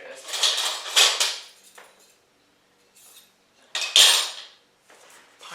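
Kitchen utensils clatter and clink in two loud bursts of rummaging through a drawer, separated by a short quiet pause, with softer rattling trailing at the end.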